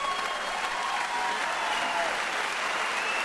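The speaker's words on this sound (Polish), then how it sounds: "Brawa przy otwartej kurtynie." Steady, dense applause from a boxing arena crowd, held at an even loudness throughout with no pauses or single claps standing out.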